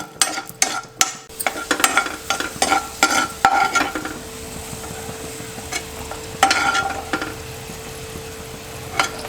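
Raisins and almonds stirred and fried in a pan: loud scraping and clattering strokes of a spoon against the pan over a crackling sizzle, easing to a softer hiss with occasional stirs.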